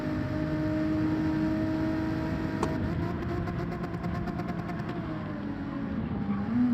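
Race car engine in Gran Turismo 7 at the Nürburgring Grand Prix circuit, a loud steady drone that rises and falls in pitch with a brief click of a gear change partway through, with no talking.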